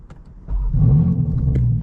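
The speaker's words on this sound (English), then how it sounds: "All right, guys, so let's turn the car on." A 2025 BMW M4 Competition, tuned, fires up: a brief starter whirr gives way at once to a loud, deep, steady idle rumble that continues close by.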